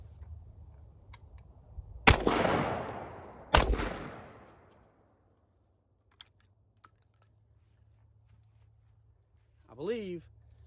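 Two loud 12 gauge double-barrel shotgun blasts at paint cans, each a sharp crack with a long decaying boom, followed by faint clicks and a brief voice near the end.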